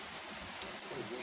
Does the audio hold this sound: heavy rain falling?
yes